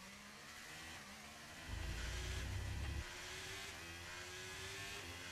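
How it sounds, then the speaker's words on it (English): Race car engine in a sim racing game revving hard with wheelspin at a hairpin on the Portugal circuit, a steady drone that surges louder midway through the clip and then settles back. "you can actually hear the engine just going, revving up, and the car actually going nowhere at the same time"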